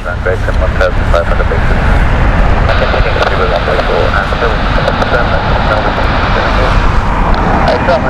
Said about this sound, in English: This is British Airways 787-10.